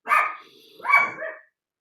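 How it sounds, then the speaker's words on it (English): A pet dog barks inside a home, two sharp loud bursts, one at the start and one just under a second later, with a short trailing yelp at the end and no talking over it. "My dog is going to start barking now because my daughter's coming home."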